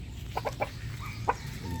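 An Escolin White Muff rooster gives a few short, soft clucks in quick succession, then another cluck a moment later, over a low outdoor background hum.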